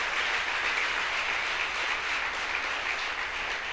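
A church congregation applauds as a steady, dense wash of clapping that holds at an even level for several seconds, somewhat distant and without voices.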